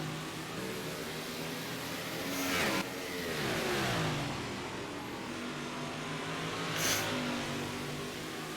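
Race cars lapping Oswego Speedway during Super Speedweek, engines roaring loudly and continuously as cars pass close by with rising and falling pitch sweeps, one car's whine swelling near the start and another passing later.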